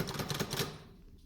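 Quick run of rapid mechanical clicks and ratchets as the carriage of a 1963 Olivetti Diaspron 82 typewriter is pushed along its length, close and faint, fading to quiet by the end.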